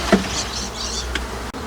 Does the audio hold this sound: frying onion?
no